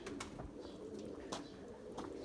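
Purebred Erzurum white pigeons cooing softly in low, rolling calls, fairly faint against a steady background with a few sharp clicks and taps nearby.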